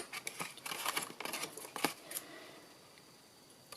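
Scissors snip through material in a quick series of crisp, close cuts, several short bursts in the first two seconds before trailing off into quiet.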